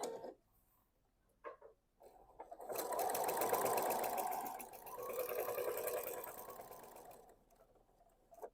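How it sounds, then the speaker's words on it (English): A sewing machine stitches a seam on a vinyl pouch, running in two sustained bursts with a short pause between them, after brief quiet with faint clicks at the start. "we want to sew from the left hand side to the right hand side"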